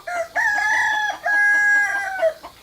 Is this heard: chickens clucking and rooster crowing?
yes